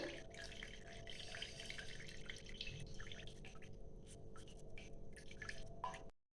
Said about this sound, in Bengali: এইভাবে ঝুলিয়ে রাখতে পারেন এই জল পড়ছে